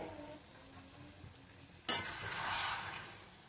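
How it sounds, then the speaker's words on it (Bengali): Rui fish korma cooks in a pan with a faint simmer that bursts into a loud, steady sizzle and stirring about halfway through. "দেখুন মাছটা আমার ফুটছে"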